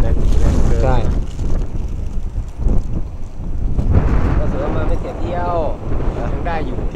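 Strong wind buffets the microphone at a seaside pier used for sea fishing at Sattahip, a constant loud rumbling roar with gusts, while people talk over it.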